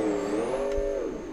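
The Monster Max monster truck's engine in BeamNG.drive holds a loud, steady revving drone, its pitch rising slightly and then easing off, with no talking.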